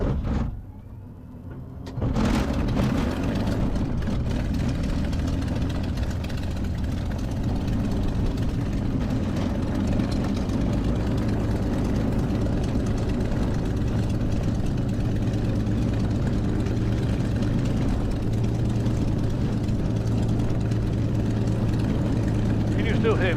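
A Spitfire aircraft engine catches after a brief quiet moment and settles into a loud, steady, rumbling idle close by, with people talking over it.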